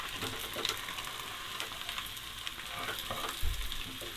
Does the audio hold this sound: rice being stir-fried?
yes